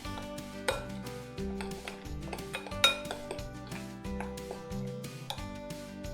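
Spoon stirring grated apple with sugar in a bowl, giving repeated close clinks and scrapes against the bowl in a steady rhythm, with faint tonal ringing between strokes.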